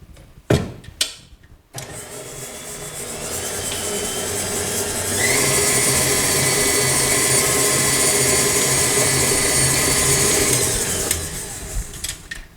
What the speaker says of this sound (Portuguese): Vai, manteiga, açúcar é o primeiro passo na batedeira.